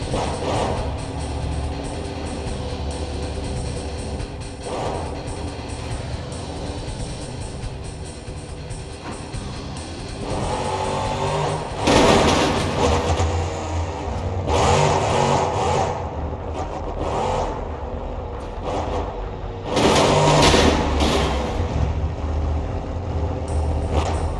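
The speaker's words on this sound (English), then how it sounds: "Pulling to the line right now, there's our final competitor of racing, is Jacob Lobel's Relentless." Custom truck engines rumbling and revving at a drag race start line in BeamNG.drive, a continuous loud drone with two surging rev bursts partway through.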